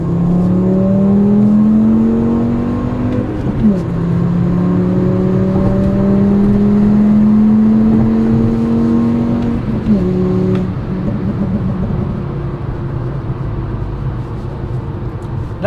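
A tuned 2007 2.5L VW Rabbit accelerates around town, its engine note rising steadily through gears with shift dips near four and ten seconds, close and fairly loud, then easing to cruise.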